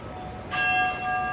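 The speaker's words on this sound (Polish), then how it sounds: "Dzwon." A church bell in San Sebastian strikes once, a bright ringing tone with lingering overtones that swells and fades over a quiet background.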